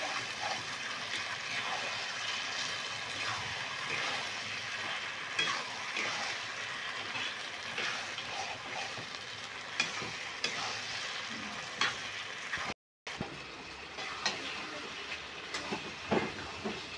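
Goat mutton pieces stirred through fried spice paste in a pot, with a continuous hissy sizzle and scattered scraping knocks of the spoon running throughout, fairly quiet, with a brief dropout near the end.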